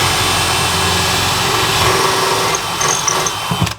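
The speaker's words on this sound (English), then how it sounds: "Remember, the backsplash is tiled, so I'm going to bring my drill bit up here." A power drill with its bit runs loud and continuous as it bores into a tiled backsplash wall under kitchen cabinets, then winds down with a few clunks at the end.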